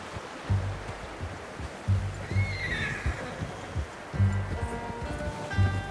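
Horse in Red Dead Redemption 2, a fairly faint whinny rising over the sound of hooves that clop in uneven bursts, with outdoor rustling behind.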